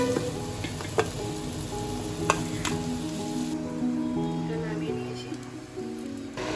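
Steady sizzling of pumpkin frying in a pan with occasional clinks, while a voice speaks softly in the background.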